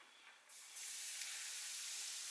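Beef stock poured into a hot pan of creamy mushroom sauce for venison steaks, a quiet hiss that jumps up and then holds as a steady, bright sizzle.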